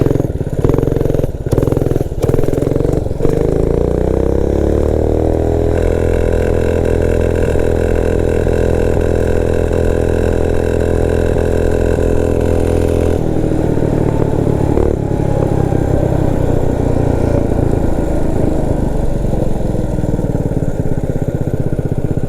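Motovox minibike with a stock, governed Predator 212 engine revs up and holds a steady loud drone while riding, then its pitch shifts and wavers as the throttle changes, heard up close with no talking.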